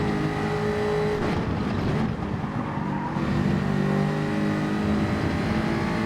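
Race car engine in Gran Turismo 7 holding a loud, steady drone with tonal harmonics for about six seconds, a brief dip and rise in pitch midway as it shifts or lifts, with faint tire noise underneath.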